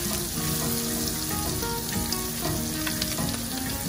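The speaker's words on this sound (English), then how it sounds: "In the same pan, I'll add some more butter and I'll make the sauce." Butter melts and sizzles in a pan for a cream sauce after cooking shrimp and asparagus. The frying is close and steady, with crackles and light stirring.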